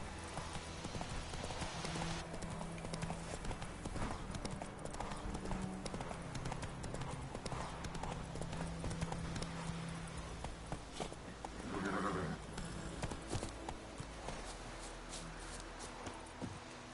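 Horse hooves clip-clopping steadily in The Witcher 3: Wild Hunt, a continuous rhythmic trot with game music and ambience underneath and a brief voice mid-way.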